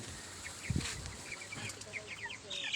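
Young chicks peep in short, high, repeated chirps, with a soft low thud near the start and the calls coming close and fairly faint.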